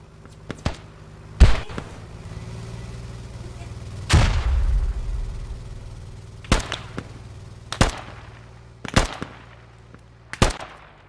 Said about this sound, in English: I can hear some gunshots.